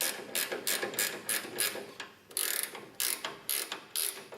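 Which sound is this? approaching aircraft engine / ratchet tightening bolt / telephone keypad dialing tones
ratchet tightening bolt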